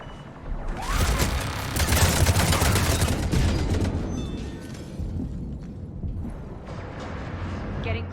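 Dense rattling machine gun fire and explosions in the video game Mass Effect 3, loud and sustained for several seconds before easing into scattered shots, with game voices underneath.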